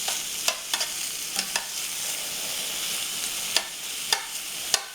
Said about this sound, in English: We have some bacon, introduced to a nice hot pan. And we want to render this down and get this caramelized.